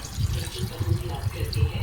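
Water is poured into a pan of potatoes as a continuous close splashing rush, with a voice talking over it.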